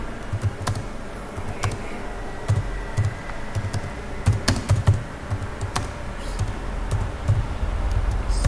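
Fingers type on a computer keyboard while entering a prompt into ChatGPT, with clustered close clicks and clacks at an irregular rhythm over a soft background hum.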